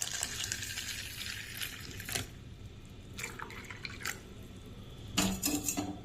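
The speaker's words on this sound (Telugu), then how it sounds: "వీటికి ఇప్పుడు వాటర్ వేసి సోక్ చేసుకుందాం" Water pours and drips over soaked green gram in a sprouts box, arriving as a few short splashy bursts against a low, steady background hum.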